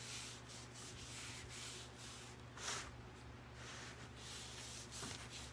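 Paper being rubbed down onto a surface by hand for a craft piece: soft, repeated brushing strokes swell and fade in an uneven rhythm, close and quiet, with no speech.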